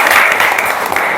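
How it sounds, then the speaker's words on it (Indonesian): A group applauds for a student named Zakina in a classroom, a short loud burst of close, dense clapping. "kasih tepuk tangan untuk Zakina"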